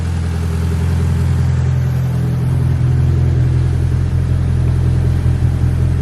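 A Mitsubishi Evo 8 engine idles smoothly while warming up after an oil pan install, a loud, steady low rumble with a constant even hum and no talking.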